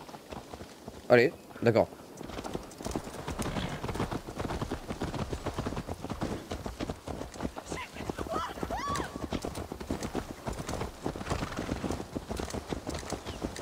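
A horse gallops in the video game Assassin's Creed Valhalla, with rapid, continuous hoofbeats and a brief whinny near the start, set under game music and someone speaking briefly.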